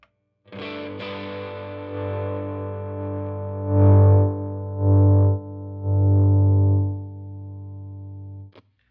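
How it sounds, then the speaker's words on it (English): An electric guitar plays through a Vox AC4 hand-wired amp at low, talking-level volume, with a sustained crunchy chord followed by several distorted single notes that swell and ring out before a final click. "you can still get some crunchy tones at like talking levels, pretty quiet"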